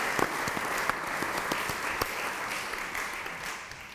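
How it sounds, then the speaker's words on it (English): Audience applause at an on-stage conversation event with comedy performers, a steady wash of many hands clapping that fills the whole stretch, fairly distant and even, with no talk over it. "Can we have a round of applause for the people who've been running around with the microphone?"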